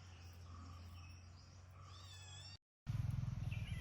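Several cats meow hungrily for fish in a village kitchen, with drawn-out, wavering cries over a low steady hum, then a brief silence and a buzzing, rhythmic noise.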